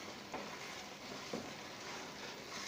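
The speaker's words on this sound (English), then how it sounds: "so we stir it till everything becomes solidified" Food stirred in a frying pan with a napkin over low heat, with a steady close sizzle and faint scraping strokes running throughout.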